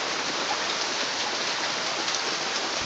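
Hail mixed with rain pours down steadily during a February storm, a dense, even hiss of impacts on outdoor surfaces with no voices heard.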